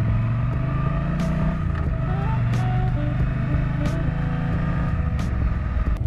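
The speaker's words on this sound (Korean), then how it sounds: "시동을 걸면 두둥거리는 배기음이 고막을 때립니다." Triumph Speedmaster classic cruiser motorcycle idling after start-up, a steady low exhaust rumble close by with no talk, holding an even drone throughout.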